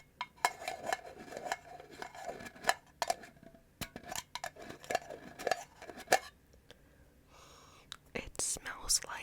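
A Trader Joe's tomato leaf candle is tapped repeatedly, giving bright metallic clinks in quick irregular bursts up close, with soft whispering around the taps.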